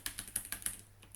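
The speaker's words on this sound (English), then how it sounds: "I know my exact mirror, so I'm going to go type that in instead" Quick keystrokes on a computer keyboard, around eight close, crisp clicks in a fast, uneven patter in a quiet room.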